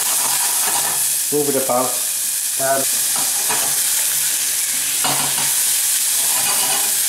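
Garlic sizzles steadily in a hot pan while a utensil stirs and scrapes it around in a few bursts, with a brief spoken remark over the frying.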